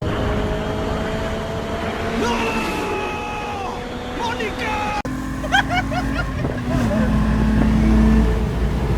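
A Nissan Z's engine drones and climbs in pitch while racing a Camaro, with excited shouting voices over it throughout and a louder rise toward the end.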